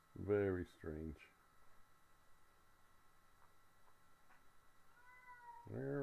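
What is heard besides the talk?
cat meowing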